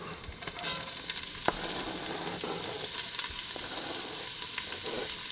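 Chopped onions sweat in a hot pan for a vegan hamburger helper, giving a steady close sizzle and hiss with scattered small pops and crackles throughout, no voices.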